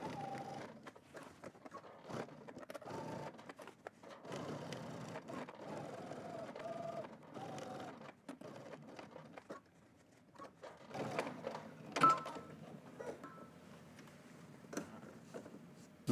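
A sewing machine runs a 5/8-inch jacket seam with back stitching at both ends, whirring in short, uneven bursts with pauses between runs. Brief voice sounds and small handling noises come through close to the machine.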